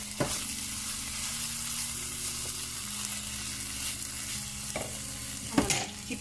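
Curry frying with pepper in a pot for split peas stew, a steady close sizzle with occasional spoon clinks and scrapes against the pot.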